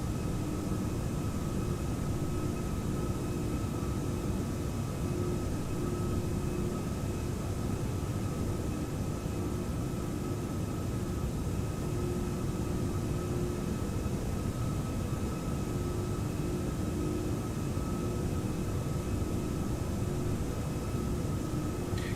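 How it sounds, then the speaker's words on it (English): Steady broadband cabin drone of an Airbus A340-600 airliner in X-Plane 11, a continuous airy roar with faint tonal hums, even and unbroken throughout. "all the sounds that we're hearing are actually recorded from a 340 or from an Airbus aircraft"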